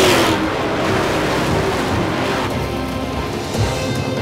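Race cars at Daytona, engines roaring loudly as they charge past, the revving din steady with a car swelling by and fading.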